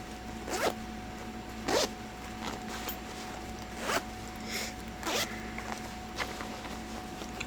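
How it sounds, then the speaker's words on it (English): Several quick zipper pulls on a bag, one after another with short pauses, close and crisp against a quiet background. "there's a lot of zippers"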